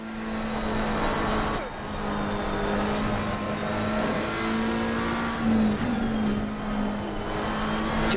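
Steady sustained race car engine drone from a McLaren GT car in Assetto Corsa Competizione, with shifting pitch as it revs and changes gear through corners, loud and continuous throughout.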